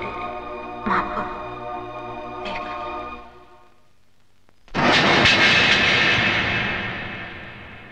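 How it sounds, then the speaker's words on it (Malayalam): A passenger airplane passes overhead, its broadband engine roar rising abruptly and loudly, then slowly fading as it recedes, following a quieter stretch of low tonal hum. "ലേഹയുടെ ഫ്ലൈറ്റ് ഇപ്പൊ പോയി കാണും."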